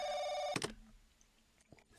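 A telephone bell rings loudly and steadily in The Crooked Man horror game, then cuts off abruptly, leaving a few faint thumps and a near-silent room.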